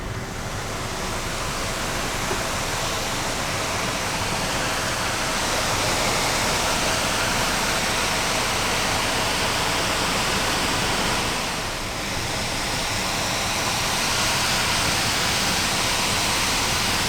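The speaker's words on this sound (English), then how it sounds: "there are these little waterfalls along the side of the road" Small waterfalls beside a road pour in an unbroken, dense rush of water that stays steady throughout, with no voices.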